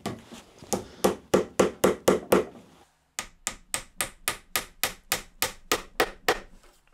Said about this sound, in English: get a bit of glue on some dowels and get them tapped into all these extra holes I've created